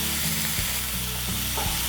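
Four chopped tomatoes hit a hot pan with green chillies already softened in oil, sizzling and frying steadily with stirring scrapes throughout, close and continuous.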